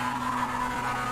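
A race car in iRacing climbing Pikes Peak, its engine holding a steady, nasal, buzzing drone for a brief stretch, close and fairly loud with no voices.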